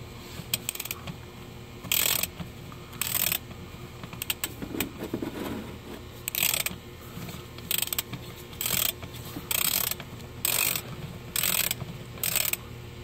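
A ratchet with a 10 mm hex socket loosens bolts on a 2012-2023 Dodge Charger 8-speed transmission, making close, crisp bursts of rapid clicking that come in repeated short runs with brief pauses between them. No one speaks.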